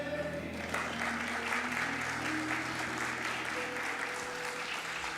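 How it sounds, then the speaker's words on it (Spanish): Congregation clapping during a Sunday church service, a steady wash of applause from many people filling the room throughout, fairly soft and even. "Aplauda eso, hermano."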